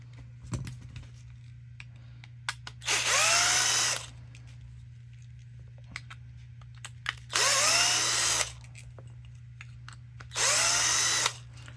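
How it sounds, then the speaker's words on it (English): A power drill whirs in three short bursts with pauses between, loosening screws on a Losi 22S RC car transmission, mixed with light clicks and handling noises over a steady low hum. "I get these broken loose, and I finish it off with my drill."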